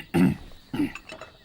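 Two short, forceful coughs close by, the first louder, with a rougher throat sound trailing after the second.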